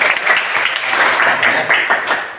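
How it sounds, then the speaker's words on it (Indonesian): A primary school class claps for a student, loud and close, with quick uneven bursts of hand claps from many children over a couple of seconds. "Dan kasih tepuk tangan dulu untuk Juwita."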